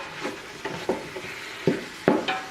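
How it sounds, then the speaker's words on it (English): Ground beef cooks in a pot for chili, giving a soft background sizzle broken by a handful of sharp scrapes and clanks from a utensil stirring against the pot. "Everybody can kind of see as the beef is cooking."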